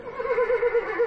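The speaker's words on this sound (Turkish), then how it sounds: "Kişniyor." A battery-powered talking horse statue in Samsun, Turkey, gives an electronic neigh, a loud, clear, quavering whinny that wavers rhythmically for about a second.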